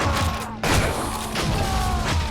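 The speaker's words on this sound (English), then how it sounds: "That explosion is a little bit ridiculous" An explosion in the video game Shank 2: a loud, dense blast bursts in and rumbles on with crackling debris over a constant background of game noise.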